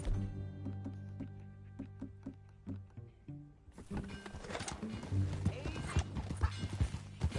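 Rhythmic clip-clop of horse hooves trotting in Red Dead Redemption 2, steady and fairly close, with a voice speaking over the latter half.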